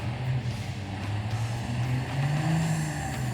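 A Dodge truck with a failing transmission accelerates down a drag strip, its engine droning loudly and steadily, pitch wavering and rising slightly as the motor runs away without shifting cleanly.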